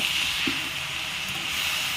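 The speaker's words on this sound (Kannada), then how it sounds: "ಸೊಪ್ಪನ್ನ ಚೆನ್ನಾಗಿ ಹುರ್ಕೋಬೇಕು ಒಗ್ಗರಣೆಯಲ್ಲಿ" A steady, hissing sizzle of mixed leafy greens sautéing in hot oil tempering, close and fairly loud, with one brief knock near the start.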